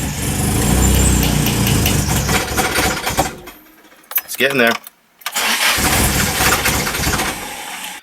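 A car engine with a newly fitted fuel pump cranks and catches after priming, loud churning, then a pause with a brief sputter before it turns over again and runs, with a short spoken remark.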